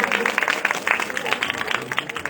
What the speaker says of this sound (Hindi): इनके लिए जोरदार एक बार तालियां बजाएंगे।